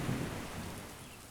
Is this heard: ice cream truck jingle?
no